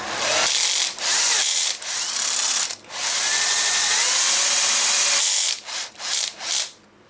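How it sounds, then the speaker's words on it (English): A power drill with its clutch slipping whirs loudly in sustained bursts, briefly cutting out several times, with a rough, grinding ratchet-like chatter near the end, while reloading 45 Colt cartridges. "I like having my drill clutch out because if it gets caught on something, it clutches"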